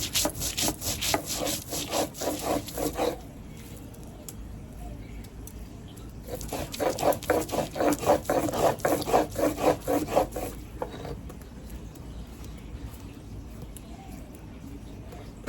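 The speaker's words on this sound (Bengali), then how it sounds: "চলো এখন বেটে নেবো জিরে আদা রসুন একসঙ্গে" Cumin, ginger and garlic are ground together into a paste, giving rhythmic, gritty back-and-forth scraping strokes in two bouts separated by a quiet pause, close up and fairly soft.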